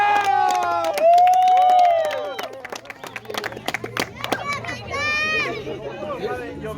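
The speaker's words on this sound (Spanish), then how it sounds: "aplauso a Roca!" Crowd at a camp bonfire clapping and cheering, with scattered claps and high excited voices, children among them, mixed with shouting and speech close by.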